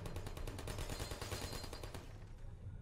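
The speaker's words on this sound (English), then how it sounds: "Why are you shooting already?" Repeated shots ring out from a weapon in the video game Portal, a rapid loud burst of closely spaced bursts that runs for a couple of seconds before fading, with no talking.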